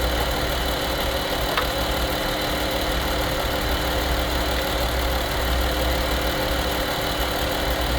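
A Jeep Cherokee engine idles steadily during an A/C recharge, a constant close rumble and hum with a faint mechanical ticking that never changes pace.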